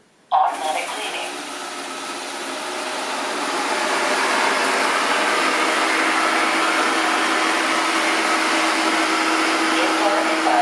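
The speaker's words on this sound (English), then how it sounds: "By the way, AOSO S3 robot vacuum cleaner is not very quiet. The noise level is about 62 decibels." An AOSO S3 robot vacuum cleaner runs with a steady broadband whir and airy suction hiss, starting abruptly and growing slightly louder partway through, continuous and fairly loud throughout.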